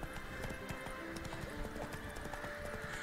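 Roach the horse's hooves from The Witcher 3 clop in a quick steady gallop rhythm, fairly faint, with a faint steady hum underneath.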